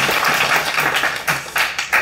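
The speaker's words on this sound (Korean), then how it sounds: "여러분 큰 박수로 맞이해주세요." A brief, close burst of audience applause welcoming a lecturer to a special mathematics lecture on quantum computing, dense clapping that swells and dips over two seconds.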